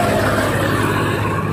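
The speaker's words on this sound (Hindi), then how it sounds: "गाड़ी का नॉइज बहुत ज्यादा आ रहा है यार, बहुत ज्यादा।" A Renault Kiger turbo with a manual gearbox fills the cabin with steady, loud road and engine noise while driving, continuous and close with no talking.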